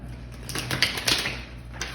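Tarot cards being shuffled by hand, a quick run of soft crisp riffling flutters and light taps close by, over a low steady background hum.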